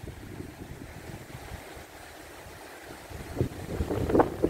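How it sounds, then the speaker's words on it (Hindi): Outdoor water rush from a flowing river near a bridge, a low broadband wash mixed with wind buffeting the microphone, growing rougher and louder toward the end. "तो यहाँ से रिवर दिख रही है, आवाज भी आ रही है"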